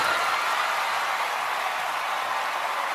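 Cheering and applause from a large audience at the Tony Awards ceremony, a dense continuous roar of clapping and shouts held at steady loudness throughout.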